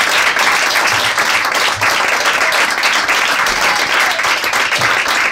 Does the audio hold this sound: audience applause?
yes